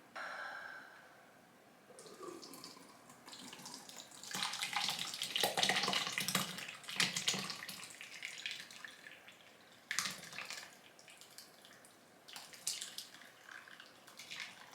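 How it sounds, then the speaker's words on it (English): Whey is strained off farmer's cheese curds, pouring and splashing like a running tap, with the trickle swelling and surging irregularly at moderate, fairly close level, with no talk. "we're gonna go ahead and strain this off now"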